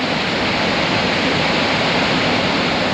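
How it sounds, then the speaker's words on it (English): Millions of litres of water rush out of an opened hydroelectric dam, a loud, steady roaring wash with no breaks and no voices. "there is millions of litres of water flowing out of there"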